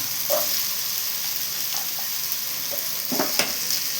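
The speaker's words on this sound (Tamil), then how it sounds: "இங்கே பாங்க நல்லா வதக்கிடலாம் பீன்ஸ் போடலாம்" Beans sautéing in a pan for avial give a steady, close sizzle with a few spoon scrapes and taps against the pan near the end, and no voices.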